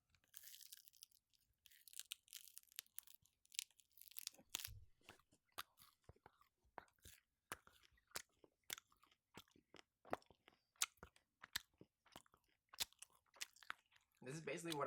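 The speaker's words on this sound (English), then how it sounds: "I can't even chew it." Tough Icelandic candy is chewed close to the microphone with repeated wet, sticky crunches and bites in an uneven rhythm, with brief voice sounds early on.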